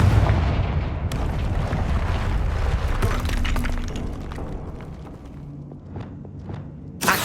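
The Confringo blasting spell in Hogwarts Legacy goes off in a loud, dense burst of explosive crackling and shattering debris, rumbling on for several seconds, then thins into scattered pops before a second sharp blast near the end.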